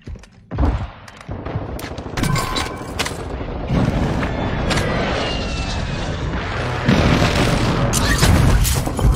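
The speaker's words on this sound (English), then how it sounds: "Friendly airstrike on the way." Video game air support strike: booming explosions and bursts of rapid gunfire over a roaring aircraft drone, loud and dense, building toward heavier blasts near the end.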